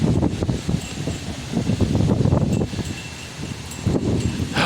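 Wind gusting outdoors across a field of state flags, uneven rumbling buffets and rustling that rise and fall, loud and close with no voices.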